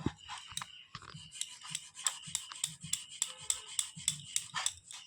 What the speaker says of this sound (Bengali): এটা একটু ভালো করে ঘষে নেব